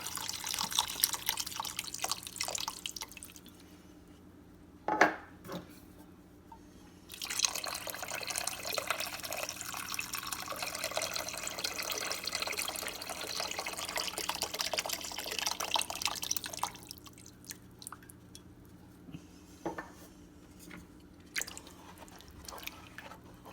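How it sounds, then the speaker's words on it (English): Two cans of beef broth pour into a pot of vegetable beef soup, a steady liquid splash and trickle lasting several seconds, then tapering off, with no talk. "Now I'm adding my 2 cans of beef broth."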